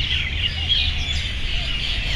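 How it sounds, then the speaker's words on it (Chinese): Birds call all around an urban park at about half past five in the morning: overlapping high chirps and tweets over a low steady rumble of background noise. "我们听到整个公园到处都是鸟的叫声"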